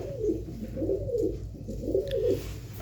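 Pigeons at a pigeon market coo in a few soft, rolling, repeated phrases nearby, with no voices over them.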